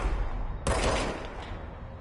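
A single sharp shot from the service weapon in the game Control cracks out over a low background rumble, then decays with a short echoing tail.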